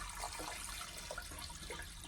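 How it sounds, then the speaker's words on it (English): Water pours steadily into a vintage mantle vase fitted with chicken wire for a peony arrangement, a soft continuous splashing trickle heard close and quiet. "So pop some water in"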